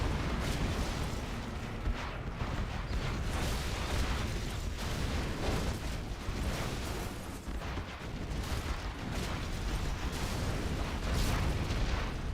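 Bomb blasts in a strategy game match on a close-quarters map, a dense continuous rumble of explosions and artillery-like bursts at moderate level throughout, with no clear pauses.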